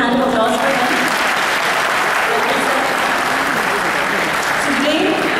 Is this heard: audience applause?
yes